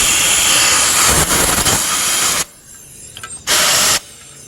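Compressed air gun blasting dirt off the carburetor area of a Kohler engine on an Exmark Navigator mower: a loud, close, roaring hiss for about two and a half seconds, a short pause with faint sounds, then a second short blast.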